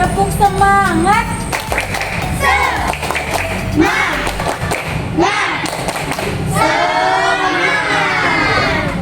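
A primary school class performs a rhythmic spirit clap, loud patterned claps and thumps mixed with children's voices calling out over the beat.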